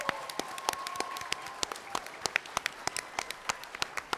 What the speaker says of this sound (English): let's give another round of applause for Black Griffin here.